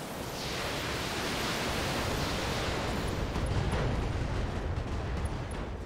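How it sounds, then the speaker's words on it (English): Volley of LRM missiles launching in BattleTech, a broad continuous rushing whoosh of rockets swelling and sustained for several seconds, no talking. "we immediately fire our LRMs at him again"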